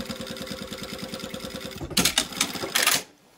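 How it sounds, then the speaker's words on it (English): A sewing machine stitches a zip fly in place, its needle hammering in a fast, steady rhythm up close before a few louder clattering bursts and an abrupt stop. "we are just going to sew that in place"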